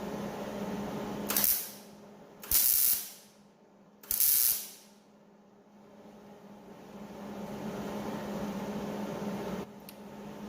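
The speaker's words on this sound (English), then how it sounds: "why are you welding through paint?" Welding on a painted Yerf Dog go-kart frame produces three short, harsh bursts of hissing crackle in the first half, each about half a second long, followed by quiet hum and one brief final spurt.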